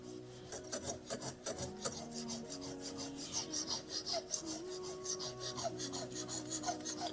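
A knife blade being drawn over a 10,000 grit whetstone in a steady run of soft, close rasping strokes, repeated evenly with no talking.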